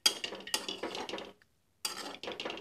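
Roasted peanuts being stirred into a samosa filling in a pan, giving close, busy scraping and clinking of utensil against the pan in bursts, with a short silent pause in the middle before the stirring resumes.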